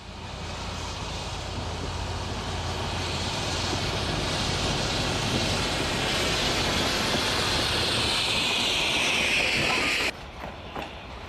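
Rio Grande narrow gauge steam locomotive No. 499 rolls past the Cresco water tank with a loud, steady rumble and rail clatter that swells as it passes, then cuts off abruptly near the end.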